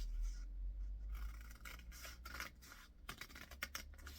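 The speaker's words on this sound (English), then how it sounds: "if you prefer not to use the X-Acto knife, you could just use a pair of scissors" Scissors cutting through the folded pages of a paper book for a craft project, heard as a quick series of close, crisp snips and rustles with no talk.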